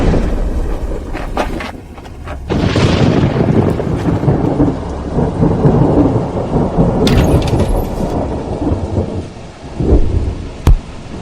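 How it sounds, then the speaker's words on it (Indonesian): A thunderstorm with steady heavy rain, loud thunder rumbling and cracking through most of the stretch, with a few sharper close claps near the end. "sepertinya hujan."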